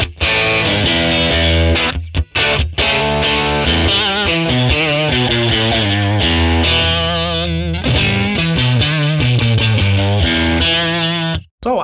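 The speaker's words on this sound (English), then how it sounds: "Since we're having the Strat in the hands, let's try the crunch balanced without any reverb. The jumped one, jumper it." A Stratocaster played through a jumpered Fender 1957 Tweed Bassman crunch model with no reverb, a loud, gritty, distorted electric guitar run of chords and single notes, steady and up front, ending in a brief stop.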